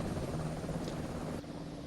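A helicopter flies in Microsoft Flight Simulator 2024 over the Olympic lakes, giving a continuous rotor and engine drone that holds steady and dips slightly in level near the end. There is no talk over it.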